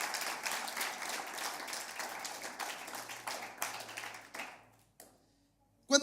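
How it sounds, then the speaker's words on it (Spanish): An audience claps and applauds steadily for several seconds, then the clapping fades out into near silence before a short sound at the end. "Dale un aplauso al Señor por la palabra del Señor"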